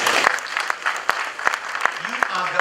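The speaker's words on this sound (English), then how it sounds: "Please, they deserve a round of applause." Audience applause at the official opening ceremony of the Newmont Ahafo facility in Ghana, a steady wash of clapping with a few sharper claps standing out, while a voice carries on beneath it.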